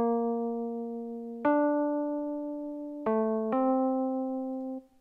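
A simple, slow synthesizer melody made in FL Studio 10, a few sustained tones, each note starting sharply and fading smoothly; clean and fairly quiet, with no voices.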